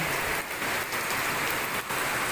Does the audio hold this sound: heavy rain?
yes